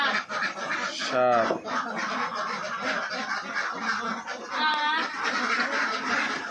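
Ducks at a duck farm with about 170 birds kept in confinement, giving a couple of short bursts of nearby quacking amid a background of flock chatter while a person counts aloud.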